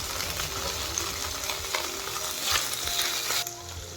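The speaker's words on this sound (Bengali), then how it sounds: "আদাটা ভাজা হয়ে গেছে, এবার আমি টমেটোগুলো দিয়ে দিলাম।" Chopped tomatoes sizzle and fry in a pan with ginger paste, a steady close crackling hiss with occasional stirring scrapes and no talk.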